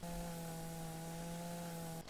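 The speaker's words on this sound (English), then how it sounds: "Get my chainsaw, and down come the birch trees." A chainsaw felling birch trees in the video game Mon Bazou, heard as a steady, buzzing engine drone with a constant pitch that runs for about two seconds before stopping.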